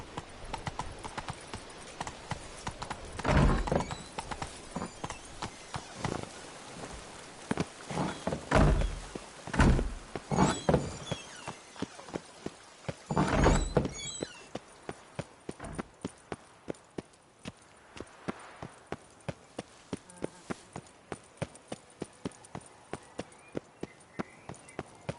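Roach, the horse in The Witcher 3 game, clip-clops in a steady, evenly spaced walking rhythm that grows clearer in the second half, with a few louder thuds and bursts of other game sound early on.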